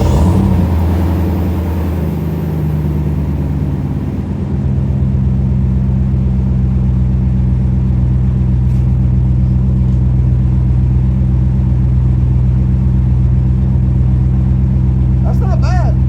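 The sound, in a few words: V8 engine with fart cannon exhaust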